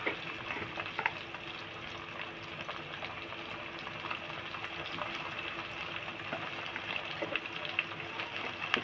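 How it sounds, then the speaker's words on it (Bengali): Potato and taro pieces fry in a pan with salt and turmeric, giving a steady, fairly quiet sizzle with occasional stirring crackles throughout. "একটু লবণ দিয়ে একটু হলুদ দিয়ে ভালো করে ভেজে তুলে নেব"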